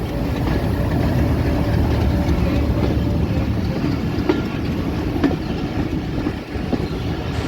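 The Rehman Baba Express rumbles along the rails on a curve as it approaches Rawalpindi railway station, a steady loud low roar with faint clickety-clack knocks and rattling, heard from on board with no talk.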